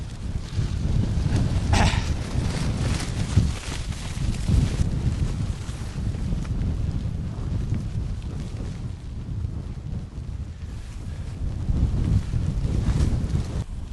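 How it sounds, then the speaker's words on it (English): Strong wind of around 20 mph buffets a Naturehike Star River UL tent outdoors, a constant loud roaring rush with gusty swells that runs the whole time and has no talk over it. "we'll say on a rough estimate 20 mile an hour winds"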